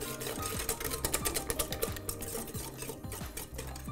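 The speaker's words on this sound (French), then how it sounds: "puis là, on va pouvoir aller fouetter." A sugar mixture is whisked briskly in a bowl, giving a steady, rapid rhythmic clatter and scraping that runs close and continuous throughout, with no talking.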